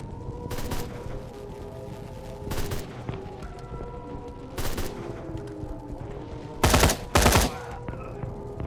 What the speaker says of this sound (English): Jesus Christ, what kind of gun is this?